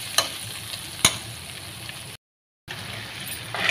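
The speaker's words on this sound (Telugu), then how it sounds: "చికెన్ అయితే బాగా ఏగిపోయిందండి" Chicken fries in a pan with masala spices, including cumin powder, pepper powder and garam masala, as a steady close sizzle with a couple of sharp crackles and a brief drop to silence.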